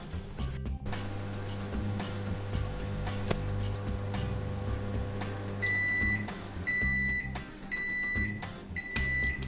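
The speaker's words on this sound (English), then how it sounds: "then microwave it for 3 minutes" A microwave oven hums steadily up close, then a series of repeated beeps sounds as it finishes.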